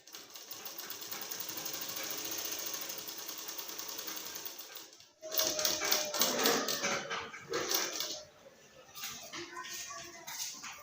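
A sewing machine stitches bra cups in a steady mechanical whir for about five seconds, then starts and stops in shorter louder bursts with clicks and handling noise, close up with a little background sound.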